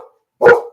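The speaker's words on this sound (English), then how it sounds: "And excuse my dog." A single loud, close bark from a dog, short and sharp, heard alone after a brief silence.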